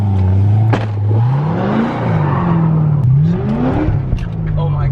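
A Z06 Corvette engine revs hard while the car slides, the pitch climbing and dropping in repeated surges, loud and close, with voices shouting over it.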